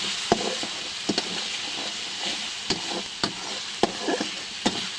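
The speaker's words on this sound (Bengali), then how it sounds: "মশলা কষাচ্ছি।" Spices for tilapia fish bhuna stir-fried in hot oil, a steady close sizzle broken by sharp scrapes and clacks of the spatula against the pan at uneven intervals.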